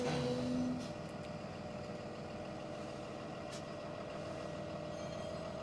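A truck or similar vehicle with a tow bar reversing slowly, a low steady engine rumble with a brief brake hiss at the start and a thin tonal whine throughout.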